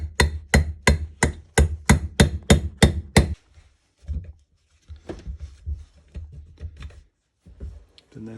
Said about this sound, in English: What I'm going to do is get my small socket right, just tap gently.